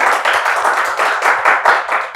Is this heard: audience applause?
yes